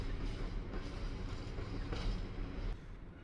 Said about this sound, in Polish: to taki pełnoprawny już skład towarowy. I ostatni wagon.